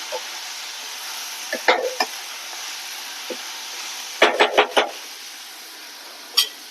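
Momo filling being mixed in a pan, with a low steady sizzle under a run of sharp spatula clicks and scrapes, bunched in quick succession toward the middle and ending in one last knock.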